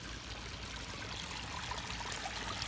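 Water trickles steadily down a small garden pond waterfall in a frog pond, a constant soft splashing wash with no voices.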